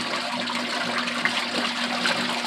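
A Kuppet portable washing machine churns clothes in water with detergent, a steady close rushing, sloshing wash sound with a faint motor hum underneath.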